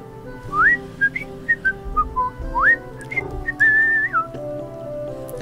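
Someone whistles a short, wandering run of rising and falling notes, fairly close, over a low background rumble beside a river.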